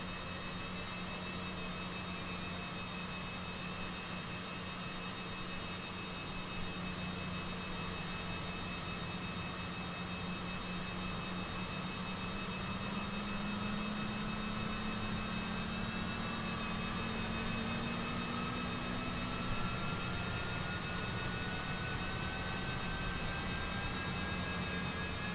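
Twin jet engines of a Cessna CJ3+ business jet spooling up during startup in Microsoft Flight Simulator, a steady loud whine and roar with a slowly rising tone that continues throughout.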